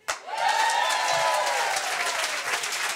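An audience claps steadily at a comedy club show, a thick, even wash of applause that starts abruptly and holds for a few seconds, with no one speaking over it.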